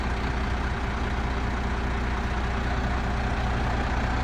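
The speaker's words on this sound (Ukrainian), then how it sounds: "Двигун працює рівненько чітко." A MAN TGX 18.440 Euro 5 tractor-unit diesel engine idling, a steady, even low rumble heard close and continuous with no talk over it.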